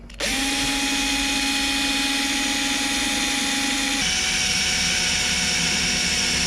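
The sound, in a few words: electric drill drilling into car body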